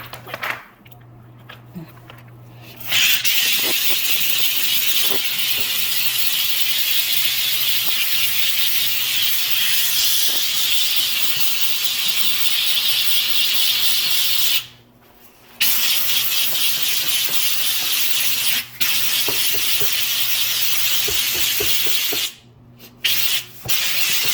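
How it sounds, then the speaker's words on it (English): A vapor steamer blasting grout lines on corrugated tile in a small master bathroom: loud, continuous close hiss that runs for long stretches, cutting out briefly a few times before resuming. "This is the machine for the vapor steamer, and with that I'm gonna do these lines."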